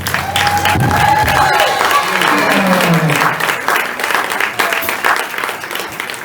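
A live audience breaks into loud, sustained applause with some cheering for a musician introduced at a concert, and the clapping tapers off slightly toward the end.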